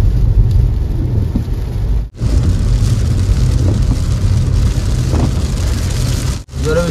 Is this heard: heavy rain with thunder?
yes